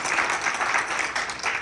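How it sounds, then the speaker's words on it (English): Audience applause at a community family meeting, a dense steady patter of many hands clapping at moderate distance, continuous for the whole span without talk. "Give a round of applause."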